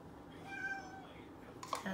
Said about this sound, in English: That's my cat, part of my cat.